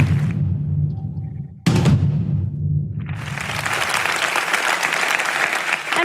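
After a low rumbling stretch and a sudden bang, a crowd breaks into loud, sustained hand clapping that continues to the end.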